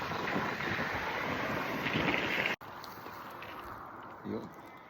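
Strong wind gusting hard on an outdoor mountain bike ride toward Serpentine Falls, a loud roaring buffet across the microphone that drops briefly midway and resumes with a faint voice underneath.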